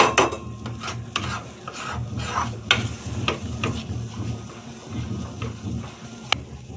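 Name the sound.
stirring a dry-fruit sweet mixture in a pan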